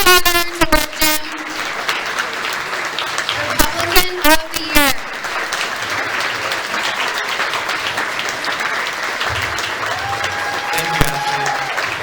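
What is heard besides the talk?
audience applauding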